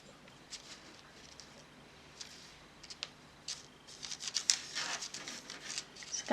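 Scissors snipping excess fondant icing off a Lego Hulk cake figure, quiet close clipping and rustling that grows busier and louder toward the end, no talk.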